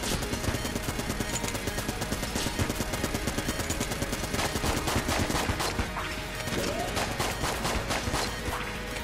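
Continuous rapid gunfire in the video game Enter the Gungeon crackles in dense, repeated bursts, loud and close, with a busy mix of other noise underneath.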